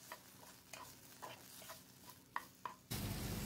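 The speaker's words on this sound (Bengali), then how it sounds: "রসুন আর আদার কাঁচা গন্ধটা চলে না যাওয়া পর্যন্ত ফ্রাই করে নেব" Grated ginger and garlic fry in a pan alongside prawns: a soft, steady sizzle with a few sharp scrapes of a spatula stirring, before the sizzling swells suddenly louder at the end.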